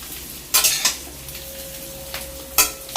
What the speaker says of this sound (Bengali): এই ফুলকপি ভেজে নিচ্ছি এখন তুলে নিচ্ছি